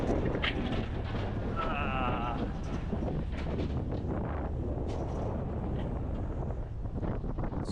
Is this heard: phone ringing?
no